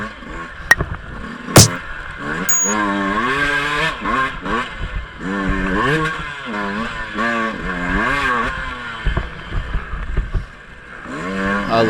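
Two-stroke dirt bike engine revving hard on a singletrack hill climb in the woods, its pitch rising and falling continuously with throttle, loud and close, with a few sharp knocks.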